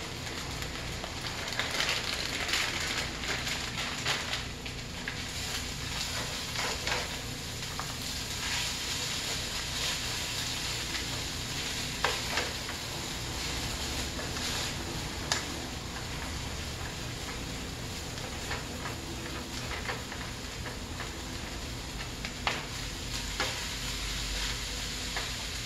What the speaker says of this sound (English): And I have to mix it all together until the vegetables cook.